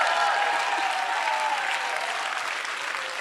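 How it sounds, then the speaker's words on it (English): An audience claps steadily and fairly loudly, a dense, even patter of many hands that carries on without a break and softens slightly toward the end. "That is the Spirit in you clapping"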